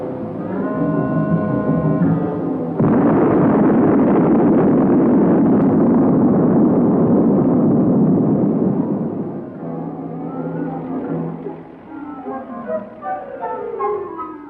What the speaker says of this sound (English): 10 million pounds of explosives were used during the job